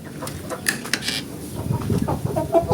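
Chickens and turkeys in a coop cluck and squawk nearby in scattered, irregular bursts, with light shuffling and background noise.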